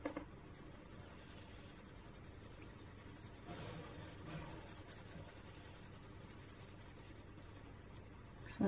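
A coloured pencil, Prismacolor, scratches softly across paper with slow strokes while the pencil is turned during colouring, faint and close, with no voices.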